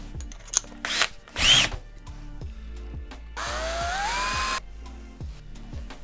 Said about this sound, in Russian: Возьмем сверло побольше, например, сверло номер 7